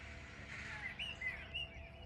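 Birds chirping outdoors in spring, several short high calls at a distance over a steady low background hum, with no one talking.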